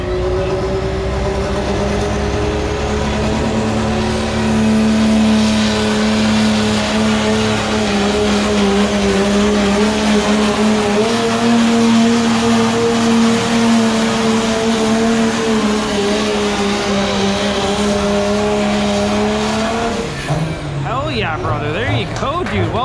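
A big truck engine at a fall fair pulling event roars loudly and steadily, its droning pitch climbing slowly as a turbo whine builds, then cuts off abruptly near the end.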